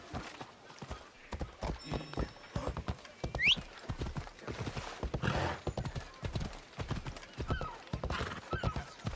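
A horse gallops in Assassin's Creed Odyssey, its hooves pounding in quick, uneven clip-clops close by, with a brief whinny partway through.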